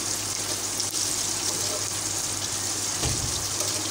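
Chicken wings fry over a slow flame in a pan of hot oil, giving a steady, close sizzle and crackle that runs unbroken throughout.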